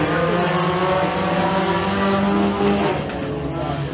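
Race cars roar together in a dirt-track heat race at Freedom Motorsports Park, a dense layered engine howl with shifting pitches, loud and close throughout.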